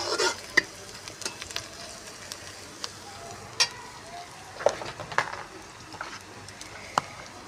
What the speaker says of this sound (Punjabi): ਪਿਆਜ਼ ਨਾ ਆਪਣੇ ਹਲਕੇ ਬਰਾਊਨ ਹੋ ਗਏ ਭੁੱਜ ਚੁੱਕੇ ਨੇ ਤੇ ਹੁਣ ਇਹਦੇ ਵਿੱਚ ਪਾ ਦਾਂਗੇ ਆਪਾਂ ਸਾਰੇ ਮਸਾਲੇ